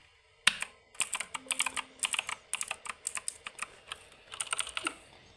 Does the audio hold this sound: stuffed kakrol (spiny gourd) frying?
no